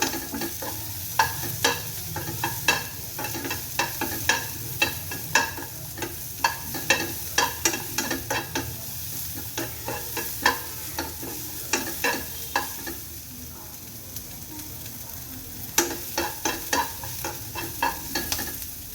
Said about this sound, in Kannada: ಇದು ಕೆಂಪಾಗೋವರೆಗೂ ಸ್ವಲ್ಪ ಈರುಳ್ಳಿಯೆಲ್ಲ ಹುರ್ಕೊಳ್ಳೋಣ